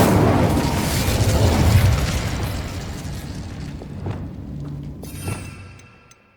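An Incendio fire spell in Hogwarts Legacy erupts in a loud, roaring burst of flame that rumbles for a couple of seconds, followed by scattered thumps and crackles that trail off into quiet.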